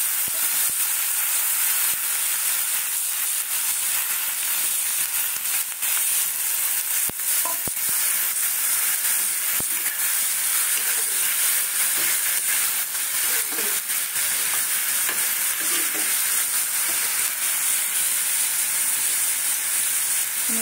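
Ginger and chili paste sizzles in a frying pan, a loud, continuous bright hiss with occasional stirring clicks, and no voices.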